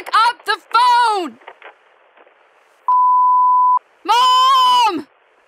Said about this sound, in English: the phone was off the hook.